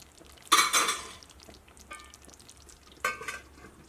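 Two sharp metallic clatters of a lid set onto a pot, the second quieter, with faint kitchen rustling between them and no talking.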